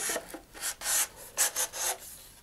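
Sandpaper rubs over the cardboard motor tube area of a Terrier Sandhawk model rocket, coming as close, uneven rasping strokes in short bursts with brief pauses between.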